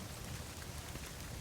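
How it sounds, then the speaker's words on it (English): Rain in the video game No Man's Sky, a faint, steady wash of falling rain with soft patter and no talk. "I love the rain effect that we can hear right now."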